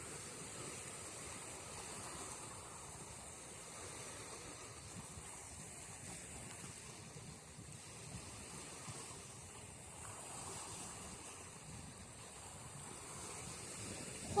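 Gentle water flowing along an autumn shoreline, a steady, even wash of moving water at moderate distance with no voices, holding constant throughout.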